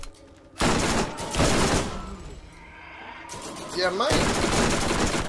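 Weapons firing in the looter shooter Borderlands come in two loud bursts of rapid shots separated by a quieter gap, with someone speaking briefly over the action.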